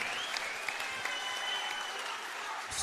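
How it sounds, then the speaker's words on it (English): A boxing crowd applauds both fighters after the bout, a steady roar of clapping from a large arena audience, continuous and fairly loud throughout, with an announcer's voice faintly underneath. "let's give both boxers a round of applause"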